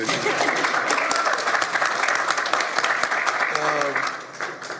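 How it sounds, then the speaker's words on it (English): A live audience breaks into sustained applause after news of a cancer cure is announced at a talk show, steady dense clapping throughout with a voice speaking briefly near the end. "You can clap, it's okay."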